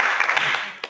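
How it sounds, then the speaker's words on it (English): Audience at a presentation on orange sweetpotato in Uganda breaks into a short burst of applause, a dense wash of clapping at moderate level with one sharper clap near the end. "Applause."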